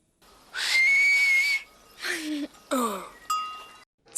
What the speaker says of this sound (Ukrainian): Я навчилася свистіти.